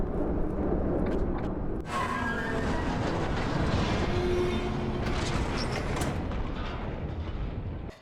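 A tram rolls along rails in the video game White Knuckle, giving a steady, loud rumble of wheels on track with rhythmic clacking and no speech over it.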